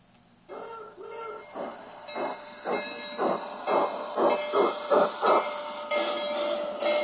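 A Bachmann Lilly Belle replica model steam train's sound unit puffs out rhythmic chuffs that gradually quicken over a constant steam hiss and a thin whistle-like tone.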